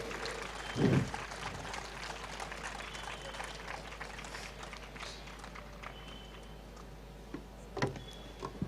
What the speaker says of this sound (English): Big round of applause for Mickey.